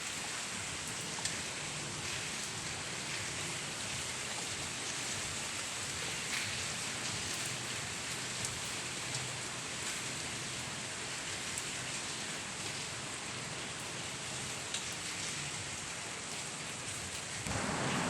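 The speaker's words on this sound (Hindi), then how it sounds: "अब मैं तो चलिए दिखाती हूँ आप लोग को बारिश" Steady rain falls outside a house, a dense even hiss of drops on surfaces that continues throughout with no voices.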